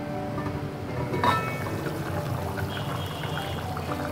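Water pours into mutton masala cooking in a pan, a steady, close, moderate trickle with a brief clink partway through, no talking.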